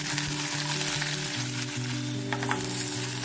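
Chopped ivy gourd sautés in oil in a pan over a high stove flame, giving off a loud, continuous sizzle and crackle with a faint steady hum underneath.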